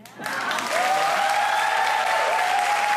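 Clapping from several people breaks out on a podcast set, starting abruptly after a brief pause and holding as a dense, close patter with a faint sustained tone running beneath it.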